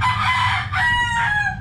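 A rooster crows loudly and close by, one long cock-a-doodle-doo with a rising then falling call, heard alone without talk, at a gamefowl handler's yard.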